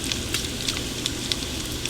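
Bacon rendering in a pan for Texas chili, a soft continuous sizzle with small crackling pops, close and steady, no talking.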